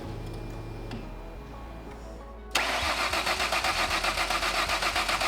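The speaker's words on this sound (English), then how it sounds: "Hopefully this will be the first time the car started up since we started the restoration in November." A Ford Mondeo under restoration cranks and fires up after a quiet stretch with faint ticking, then settles into a loud, steady, pulsing idle close by.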